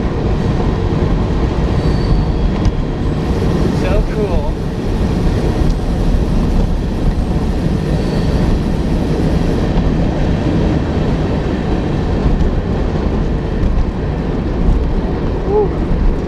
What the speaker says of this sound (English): Train, train, train.